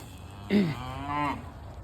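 A cow lets out a single close moo lasting under a second, rising then trailing off, heard alone over quiet background.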